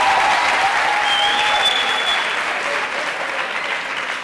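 Studio audience on a Catalan quiz show gives a strong, steady round of applause for an eliminated contestant, dense clapping throughout that eases slightly toward the end.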